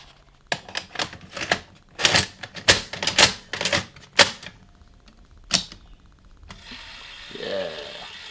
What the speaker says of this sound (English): Let's try sticking a tape in it and see if it's actually strong enough to wind a tape in both directions.